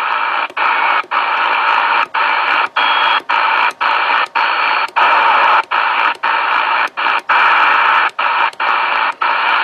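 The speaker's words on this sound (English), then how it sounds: "I'm leaving it on sideband because that way I would be able to hear the beat frequency" An amateur radio receiver tuned to sideband on the 10 meter band gives a loud, steady hiss of static, broken every half second or so by short dropouts in an uneven rhythm.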